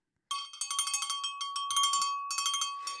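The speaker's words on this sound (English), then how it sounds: "you guys are gonna get tired of the bell by the end of this live stream" A hand bell rings rapidly and repeatedly during a live stream, bright metallic clangs in quick bursts with short pauses between them, close and loud, with no talking.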